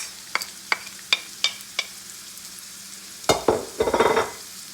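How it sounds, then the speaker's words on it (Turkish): Onions sautéing in a frying pan for a spinach and egg breakfast dish, heard as a string of sharp spoon or spatula taps followed by a louder burst of crackling sizzle and stirring, close and with no talk. "güzelce önce soğanımızı biraz kavuracağız"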